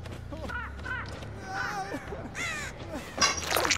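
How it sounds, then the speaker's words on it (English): A crow caws in the video game Dead by Daylight, with several harsh, close calls repeated in short bursts over game ambience and faint voice-like sounds. "I just heard a crow from someone else, like right behind me"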